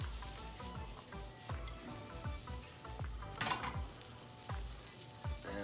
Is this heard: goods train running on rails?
no